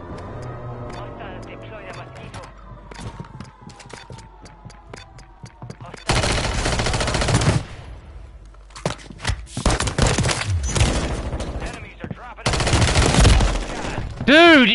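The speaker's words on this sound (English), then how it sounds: "Dude, you're shooting me!" Gunfire in the video game Modern Warfare 3 on Rebirth Island, with sharp bursts of automatic fire that come loud and close in two dense stretches, separated by quieter moments with rustling and voices.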